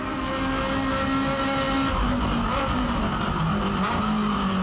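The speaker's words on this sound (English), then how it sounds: "Listen to the engines changing down." Aussie Racing Cars with 1.2-litre Yamaha twin-cam engines and sequential gearboxes race at Eastern Creek, a steady loud engine roar with pitch steps as the cars change down, with no commentary over the top.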